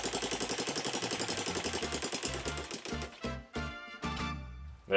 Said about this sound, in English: now it seems like it's struggling to hold idle